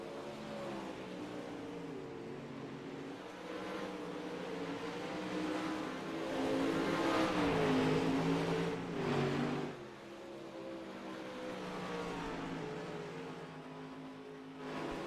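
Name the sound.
dirt late model race cars on track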